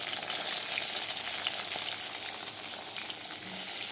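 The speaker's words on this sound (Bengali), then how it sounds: "বেগুনটা ভাজা হবে কম সিমে করে দিয়ে, সিম করে দিয়েছি একদম।" Eggplant frying in a pan over low heat, a soft, steady sizzle and crackle heard up close with faint occasional stirring, no voices.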